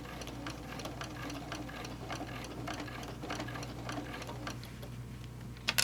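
A sewing machine runs steadily, top stitching a fabric bowl cozy made with an Accuquilt project die, its needle ticking in an even rapid rhythm close by, with a small clatter at the very end.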